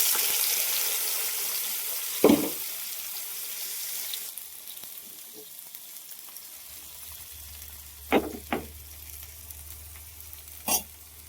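Tomato pieces hit hot oil in a pan with a broad, hissing sizzle that fades to a quieter steady fry, broken by a few sharp clinks.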